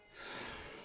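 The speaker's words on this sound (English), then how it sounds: "Excuse me, I sneezed." A single sneeze from a person playing a computer card game, one sharp breathy burst lasting under a second, close and fairly loud with no talk around it.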